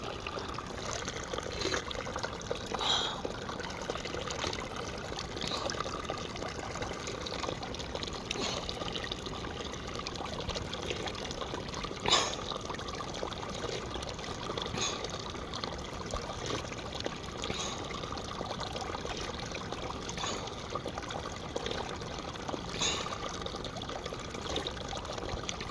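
A small mountain stream on the trail from Gangotri to Gomukh flows steadily, with a continuous close wash of trickling, babbling water and no pauses.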